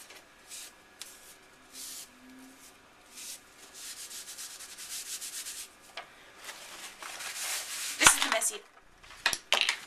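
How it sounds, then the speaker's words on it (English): Soft rubbing and scrubbing in short bursts as a baby wipe cleans glue off a mini album, close and quiet, ending with a few sharper rustles and taps. "let me just grab my baby wipe here and just wipe off some of this glue"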